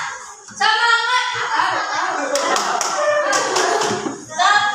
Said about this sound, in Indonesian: Kita tepuk semangat dulu ya, biar semangat.